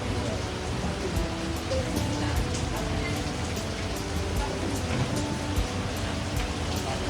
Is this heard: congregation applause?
no